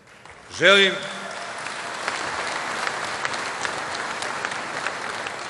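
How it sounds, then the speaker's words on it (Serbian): A crowd at an Aleksandar Vučić political rally in Raška, Serbia breaks into sustained applause after a brief shout, the clapping steady and dense throughout, heard from within a large gathering. "Želim da jednim velikim aplauzom pozdravite tog čoveka, Aleksandra Vučića"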